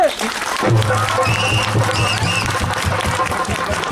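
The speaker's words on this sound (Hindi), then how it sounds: "अरे ताली मारिए ताली।" An audience claps at a Shrimad Bhagwat Katha gathering in Narayanpur, a steady dense patter of hands running through most of the stretch, with a voice and music-like tones over it.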